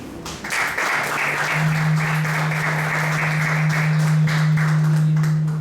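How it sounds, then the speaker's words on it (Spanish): An audience applauds to welcome an engineer presenting at a Peruvian geology congress session on paleontology. The clapping is steady and dense and fills the whole stretch at an even level, and a low steady hum runs beneath it. "Recibamos con un fuerte aplauso"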